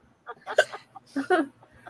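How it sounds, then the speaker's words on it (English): A person hiccups amid short bursts of vocal sound, with sharp breathy catches close to the mic and mixed in with voiced noises and near-silence between them. "Oh no, we may have given me hiccups."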